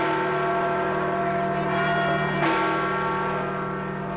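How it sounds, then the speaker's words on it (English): Church bells ring with a rich, sustained tone, their overlapping strikes blending into a steady resonant hum that carries on without pause. "record the sounds of famous bells"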